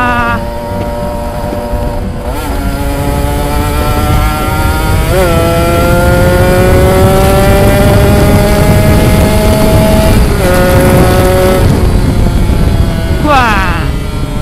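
A Kawasaki Ninja RR two-stroke motorcycle with an AMS exhaust and original reamed carburettor, revving loudly and close in repeated climbing pulls with sharp drops between, its buzzy exhaust note dominating throughout.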